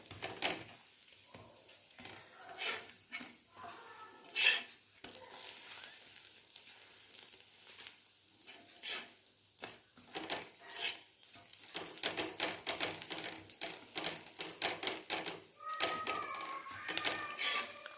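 Food fries on a nonstick tawa with faint, intermittent crackling and spitting. The sizzling thickens into denser bursts toward the end, and no one speaks.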